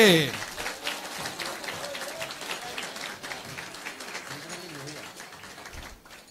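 Applause from the audience at the PMSE-2024 award ceremony for a winner, a steady patter of clapping that starts strong and carries on evenly for several seconds before fading at the end.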